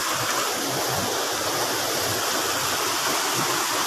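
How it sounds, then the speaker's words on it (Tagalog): A mountain river rushes steadily and loudly, a dense, unbroken wash of flowing water close by with no other sounds. "sa ilog sa bundok po kami nasa ilog"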